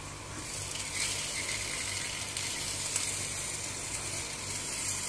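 A steady bubbling hiss of liquid cooking on a stove, continuous and close, with faint crackles and no talking.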